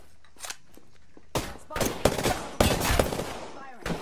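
Automatic gunfire from the video game Apex Legends comes as several sharp, loud bursts of rapid shots separated by short pauses, with brief in-game voice lines in between.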